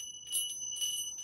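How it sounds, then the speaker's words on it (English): Small chimes struck at the close of a massage, bright high metallic tones ringing in two or three soft, shimmering bursts with sustained overtones, faint and close in a quiet room. "my chimes sometimes."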